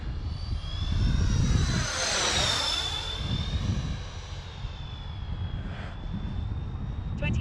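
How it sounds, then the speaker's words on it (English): A Freewing F-14 electric ducted-fan RC jet makes a flyby with its afterburners lit. A rising, whining jet roar swells as it passes close and then fades into a steady distant hum. "Let's get a nice flyby so you guys can see Larry's afterburners in action"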